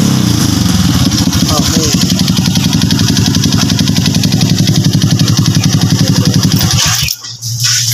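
Honda XRM 110 motorcycle engine idling steadily and loud up close after a charging problem repair, with a rhythmic putter that cuts off near the end and someone speaking briefly.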